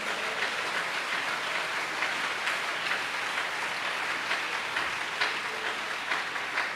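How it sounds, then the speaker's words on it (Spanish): A church congregation claps steadily and densely throughout, a broad sustained wash of applause with no clear talk over it. "Dele ese aplauso al Señor Jesús"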